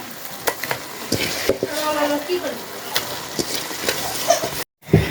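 Mutton fries with tomato and spices in a pot over a village clay stove, a sizzling hiss under clanks and scrapes of stirring, and a voice speaks over the cooking.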